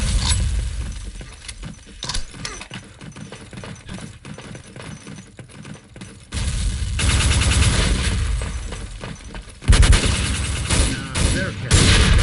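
Gunfire and a grenade blast in the World War II shooter Day of Defeat: rattling shots through a steady noisy battle bed, then a loud sudden boom near the end.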